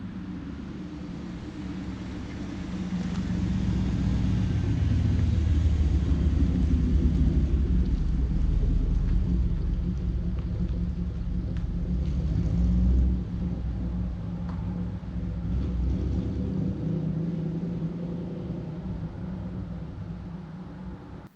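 Third-generation Pontiac Firebird on the move, a steady low engine rumble and road roar swelling and easing as it drives, heard continuously without talk.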